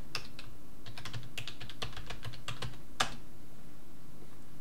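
Password being typed on a computer keyboard connected to a Raspberry Pi 4: a run of light, irregular key clicks with one sharper tap near the end, close and fairly quiet, with no voices.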